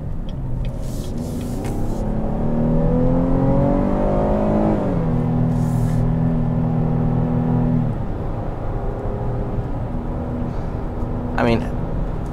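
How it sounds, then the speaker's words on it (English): A 2021 GMC Acadia AT4's V6 engine revs and accelerates steadily, its pitch climbing through gear changes, then settling into a sustained drone, with speech faint beneath it. "So the sound of this engine is absolutely phenomenal."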